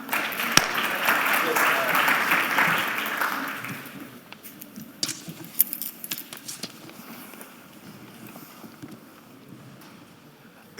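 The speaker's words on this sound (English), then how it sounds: "Round of applause for my panel" Applause for a diaspora conference panel rises loud and dense for about four seconds, then thins to scattered claps and room noise with faint voices underneath.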